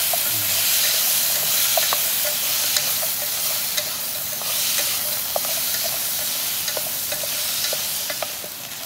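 Eggplant stir-frying in a pot over a fire, giving a steady loud sizzle and hiss with scattered crackles and pops, no talking.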